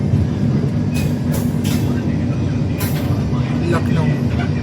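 The Dibrugarh Rajdhani Express pulls into Lucknow Charbagh station, a loud continuous rumble of rolling coaches with several sharp hissing bursts of air brakes and a brief wheel squeal, steady and close.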